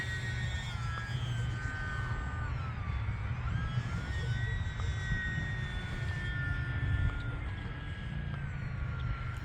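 The electric motor of an E-flite UMX Pitts S-1S model biplane on 3S power drones continuously, with tones sliding up and down as it passes, under a constant low rumble of outdoor wind noise.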